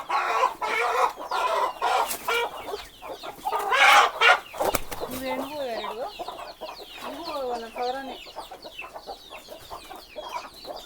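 Native country chickens on a poultry farm kept alongside sheep cluck and call close by, with repeated squawks and a rooster-like crow mid-clip, while people talk intermittently underneath.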